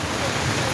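Steady rain falls on a city street in Monrovia during the rainy season, a dense, even hiss with no talking.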